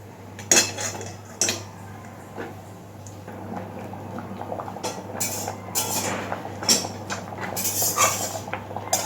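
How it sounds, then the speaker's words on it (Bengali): A khichuri pot set back down on a gas stove, metallic clanks and clinks of cookware in irregular bursts, close and moderately loud, with no talking. "এইবার আবার গ্যাসে খিচুড়ির পাত্রটা বসিয়ে দেব।"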